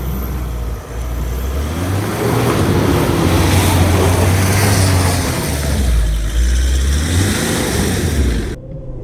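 A loud 2.4-litre diesel engine of a 2026 GWM Tank 300 SUV revs hard and steadily off-road for several seconds, rising and falling in pitch, then cuts off abruptly at the end.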